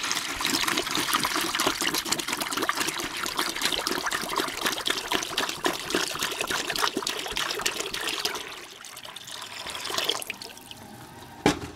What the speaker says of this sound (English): Take this half gallon that's left in here, which should be still warm or hot, just hot from the tap.